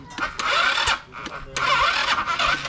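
Motorcycle starter cranking an engine that will not start, two bursts of whirring cranking separated by a short pause, close and fairly loud, with someone speaking briefly.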